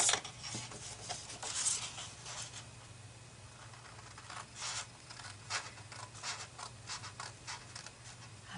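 Quiet scraping and snipping while corners are cut out of a paper box card, soft irregular rubbing strokes with small mechanical clicks over a steady low hum.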